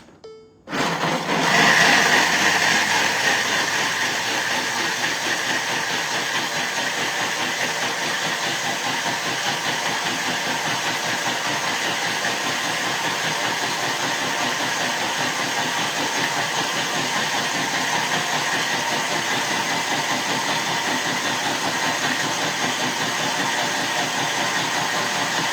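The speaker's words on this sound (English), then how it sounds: "we're going to blend that for about 30 seconds, okay? I'm actually going to come up to speed 10 and go." High-powered blender at speed 10 blending nut milk, roaring up with a sharp start and then holding a loud, steady, whirring drone with a hissy edge for around 25 seconds, close and with no talk.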